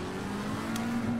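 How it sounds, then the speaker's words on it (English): A McLaren 720S race car driven at Silverstone in the Assetto Corsa Competizione racing game, its engine holding a steady, sustained drone at moderate loudness throughout, with no voices. "We are in Assetto Corsa Competizione, driving Silverstone McLaren 720S."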